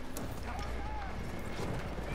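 A horse gallops in the Battlefield 1 video game, its rapid hoofbeats clip-clopping under game noise while players talk over it.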